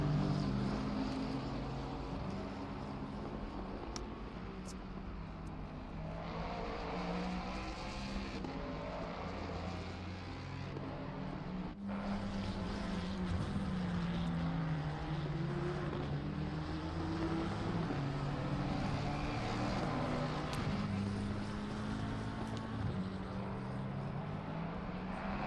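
A Mustang GT race car lapping the Paul Ricard circuit in a GT Challenge race, its engine drone rising and falling steadily through gear changes, continuous and fairly distant for the whole stretch.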